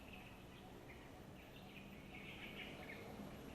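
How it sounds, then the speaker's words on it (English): Ambience inside a primary rainforest in the Philippines, with a steady bed of insect and bird calls, high chirps and trills rising and falling over a constant low hum, no talking. "Listen to the sound of the forest."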